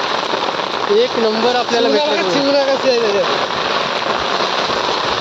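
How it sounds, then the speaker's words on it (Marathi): Heavy rain pours at night during coastal prawn fishing, a loud, steady wash of drops on surfaces that continues throughout, with someone talking over it in the first half. "आणि पाऊस पण भरपूर आलाय"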